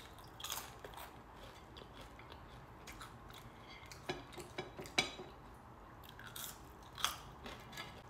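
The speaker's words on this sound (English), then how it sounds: "this is the last of my curly fries." Someone eating curly fries, with faint crunchy bites and soft chewing repeating irregularly, close but quiet, over a low steady background hum and no talk.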